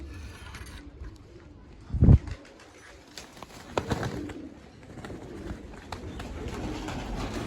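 Pigeons coo at feeding time, low calls half-buried under steady background noise, with a sharp thump near the start and scattered movement sounds.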